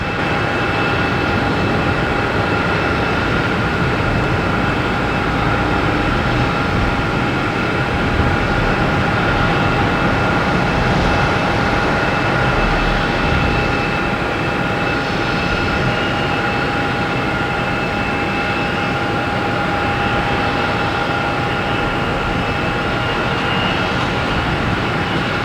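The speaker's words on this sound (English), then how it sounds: "Taking off JetBlue and A320 heading to Atlanta." JetBlue Airbus A320 taking off at Boston Logan, a loud sustained engine roar with steady whining tones, unbroken for the whole stretch and fairly close, without any voices.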